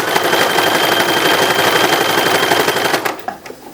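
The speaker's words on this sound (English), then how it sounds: "all I have to do is do the very simple sewing in of the ties." A sewing machine stitches ribbon ties onto a 1910s-1920s style infant wrapper, a loud rapid mechanical chatter running steadily before stopping abruptly near the end, followed by a few handling clicks.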